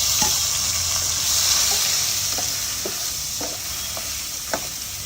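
Chopped onions frying in hot oil with mustard seeds, cumin and asafoetida, a loud continuous sizzle with regular spatula scrapes against the pan as they are stirred.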